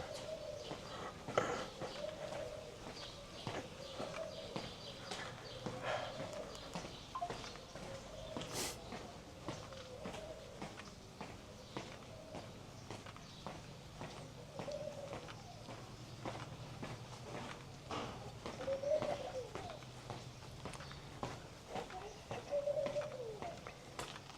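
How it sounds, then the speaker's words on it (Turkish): Outdoor ambience in Bodrum, Turkey, with repeated bird calls and cooing at a moderate distance, alongside scattered footsteps and faint background noise throughout. "kuş seslerini duyuyorsunuz mu?"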